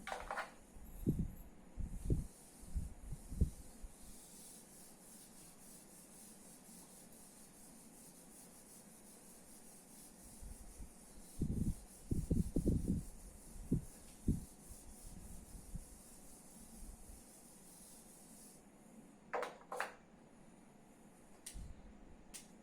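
Writing rubbed off a board, brief scattered rubbing swipes in short clusters with quiet pauses between them, faint and close, no voices.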